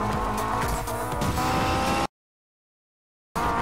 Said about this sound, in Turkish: Şu an sarıyor, araba gitmiyor.